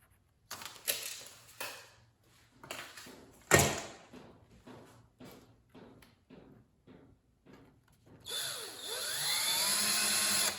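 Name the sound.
driving a screw to mark a center point on base plate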